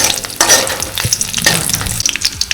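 Goat fat rendering in a hot wok crackles and sizzles loudly and close, with irregular pops and the scrape of a spatula stirring through the pieces, no voices.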